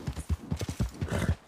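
Horse hooves clip-clopping in a steady, rhythmic series of close, distinct strikes, with a brief whinny-like touch and no talk over it.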